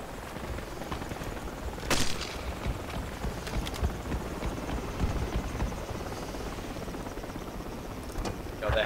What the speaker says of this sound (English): God, the heli's gonna get shot down